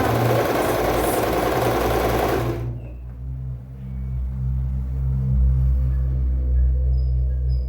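A domestic sewing machine stitches knit fabric with a loud, fast whir for about two and a half seconds. It then stops, leaving only a low, steady hum.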